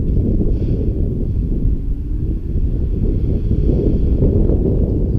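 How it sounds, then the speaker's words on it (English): Strong wind buffets the microphone in a constant low roar, loud and close, with no other sounds coming through. "Wow, it is so windy."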